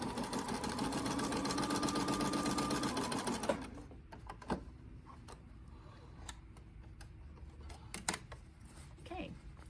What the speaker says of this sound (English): Let's go over to the sewing machine and stitch those together.